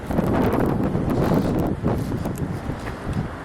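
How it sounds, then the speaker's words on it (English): Outdoor wind buffeting the microphone in heavy low rumbling gusts, strongest at the start, then easing into rougher, uneven bursts with faint rustling over the top. "Can you hear me? Because it's windy."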